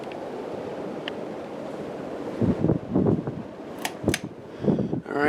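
A white and brass 1985 Casablanca Delta II Slumber Five ceiling fan runs with a soft whooshing airflow, then loose papers rustle and flutter in several bursts as the breeze catches them.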